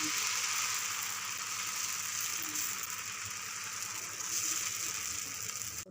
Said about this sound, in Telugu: ఉల్లిపాయ రుద్ది పేలమంతా తిప్పుతూ రుద్దాలి